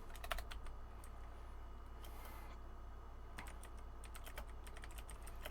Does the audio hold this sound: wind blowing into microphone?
no